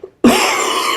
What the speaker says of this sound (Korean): 제가 기침을 자꾸 해서